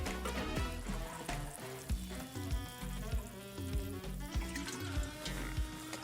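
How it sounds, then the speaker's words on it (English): Seaweed tonic water is poured over a freshly transplanted perennial in a summer garden, a faint steady trickle with a series of soft, rhythmic splashing pulses throughout. "we have to give it another drink with some seaweed tonic to water it in"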